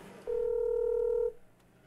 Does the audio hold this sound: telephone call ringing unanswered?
yes